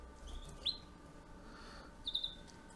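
A male Raza canary gives two short, thin, high chirps about a second and a half apart, faint over a low indoor hum.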